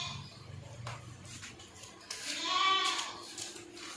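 A goat (bakra) at a Pakistani livestock market gives a loud, wavering bleat near the end, after a stretch of low background noise and rustling.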